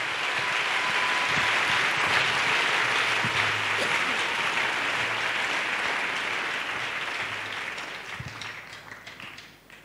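Audience applause for David: sustained, dense clapping from a crowd that holds steady and then tapers off toward the end.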